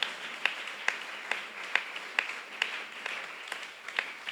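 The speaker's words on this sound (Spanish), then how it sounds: "¿Cree usted que Él se merece un mejor aplauso esta mañana para la gloria del Señor?" Sunday school church congregation applauding during a Spanish-language service: sparse, evenly spaced claps in a slow steady rhythm over a soft murmur of room noise, fairly quiet and a little distant.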